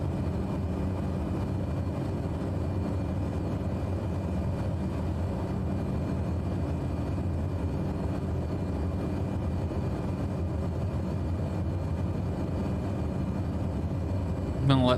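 A steady, even engine drone fills a small airplane cockpit on short final approach, continuous and close, with a faint tonal hum and a brief knock at the very end.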